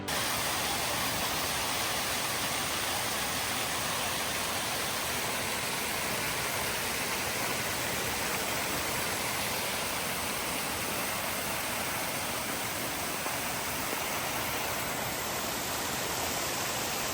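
Mountain waterfalls in the Naran Kaghan valley roar as a continuous broadband rush of falling water, steady and loud throughout with no speech.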